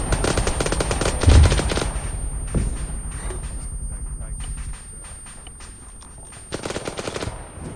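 Gunfire in the military video game Arma 3: loud, rapid automatic bursts that stop and start again, with a few single shots in between and a voice talking over the firing.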